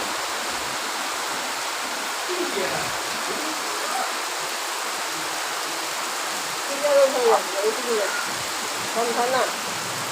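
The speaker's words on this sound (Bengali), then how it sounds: "আপনারা দেখতে পাচ্ছেন কি জোরে জোরে বৃষ্টির ফোঁটা পড়ছে আর আকাশের গর্জন করছে।" Rain falls on a rural village home by a pond as a steady, even wash of noise with no thunder audible. A voice speaks briefly near the end.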